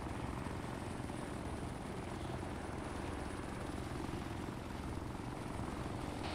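In a military video game, a helicopter hovers nearby, its rotor chopping in a loud, even, unbroken drone heavy in the low end, with no speech.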